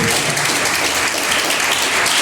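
A church congregation clapping and applauding together, a dense steady wash of hands filling the room for a couple of seconds, loud and close.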